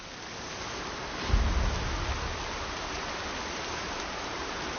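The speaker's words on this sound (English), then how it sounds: "More rain. My boots will get damp." Steady rain hisses in Horizon Zero Dawn, a continuous even wash with a brief low rumble early on, with no voices.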